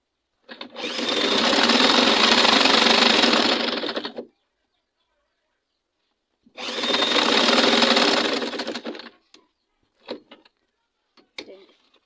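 A sewing machine stitches fabric for a ruffled turban in two steady runs of about four seconds each with a short pause between. A few faint clicks and handling sounds follow.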